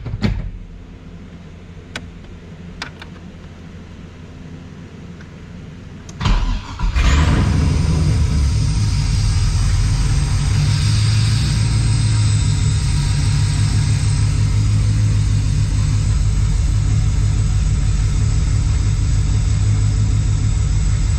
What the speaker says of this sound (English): we just gotta start it one more time, full exhaust